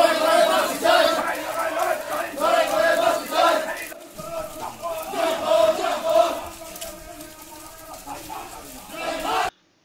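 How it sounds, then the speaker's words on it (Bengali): Hundreds of people chant loudly and continuously in a CPI(M) political rally procession moving through town, a dense, surging crowd roar with rhythmic swells. "দূর দূরান্ত থেকে শত শত মানুষ সামিল হয়ে বড় করেছেন মিছিলকে"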